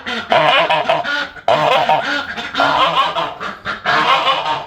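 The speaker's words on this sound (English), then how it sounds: "Gotta wait for Mumbles to lay her egg before I can let all the ducks out to the pond." A duck honks and quacks loudly and repeatedly in close, raspy bursts while laying an egg, with brief pauses between calls.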